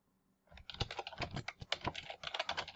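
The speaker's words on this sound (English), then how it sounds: "Just going to type in my name here." Someone types a name on a computer keyboard: after a brief silence comes a quick, irregular run of crisp close key clicks that lasts to the end, with no voices.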